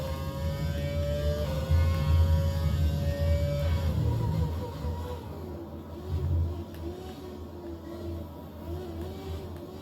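A Formula 1 car engine in the F1 2020 racing game, a sustained high whine with steady rev tones that drop and shift as the car runs, steady and fairly loud with no one talking.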